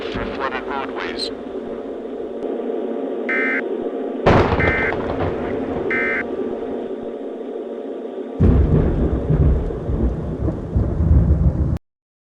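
Thunderstorm with torrential rain during an Upper Michigan squall, a steady loud wash of rain under continuous broadcast talk, with bursts of rumbling thunder and periodic alert tones breaking through.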